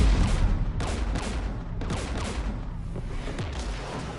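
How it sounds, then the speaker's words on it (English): A Mass Effect battle fills with loud, continuous gunfire as sharp shots and bursts overlap in a heavy, unbroken stream, with booming impacts under them and no voices. "We're taking fire."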